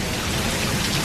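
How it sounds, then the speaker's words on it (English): Steady, dense rain hissing without a break in stormy tornado weather, fairly close and even in loudness, with no voices. "And here comes the rain."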